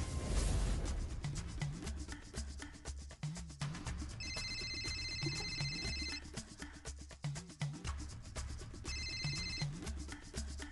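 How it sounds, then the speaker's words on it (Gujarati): A mobile phone rings in a home, its ringtone repeating in two electronic bursts over soft rustling and a low hum, with no voices. "તારો ફોન વાગે છે"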